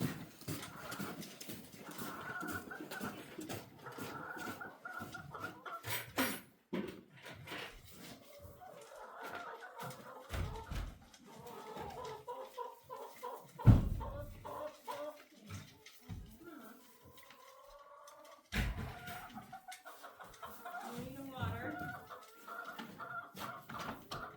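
Farm chickens, including a broody hen sitting on eggs in freezing weather, cluck repeatedly at close range with scattered knocks and thumps around them.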